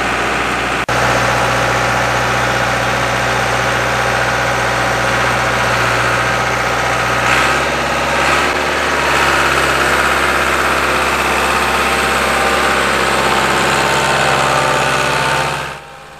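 An International Hydro 85 tractor engine idles steadily with a deep, even drone, its pitch dropping slightly partway through before running on alone and fairly loud.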